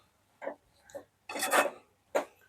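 Kashmiri chili powder being mixed through Indian gooseberry (amla) preserve, four short rough scraping strokes with brief pauses between them, close by.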